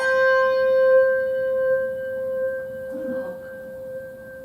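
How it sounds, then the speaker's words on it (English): A handbell played with the echo technique, a single struck tone ringing on steadily with a slight pulsing swell, close and clear, faint background murmur near the end. "the echo,"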